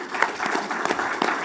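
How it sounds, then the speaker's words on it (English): An audience at an international trade seminar claps for a Nigerian bank in a moderate, uneven burst of hands, several sharper claps standing out over a softer patter, fairly close and brief. "please give a round of applause"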